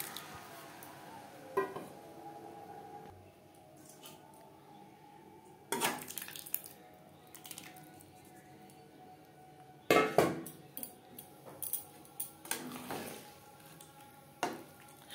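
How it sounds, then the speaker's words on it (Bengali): Spoon scraping and clinking in a pan while sago, vegetables, spices and boiled mung dal are stirred together for sabu khichuri, with intermittent bursts of metallic scrapes separated by quiet gaps. "মুগ ডাল বেশ ভালো করে মিক্সড করে দেব"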